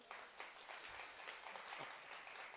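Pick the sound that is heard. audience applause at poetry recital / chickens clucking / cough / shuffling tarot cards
audience applause at poetry recital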